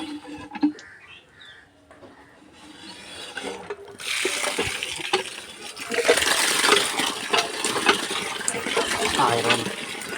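Water poured into a hand pump, followed by repeated pumping with splashing and gurgling water, moderately close, with a voice briefly audible in the background.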